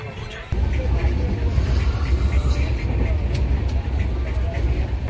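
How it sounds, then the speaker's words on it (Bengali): The Ajmer SF Express general coach rumbles steadily as it pulls away from the platform, a loud continuous rolling drone with people talking faintly inside the carriage. "এই জাস্ট ট্রেন ছাড়লো"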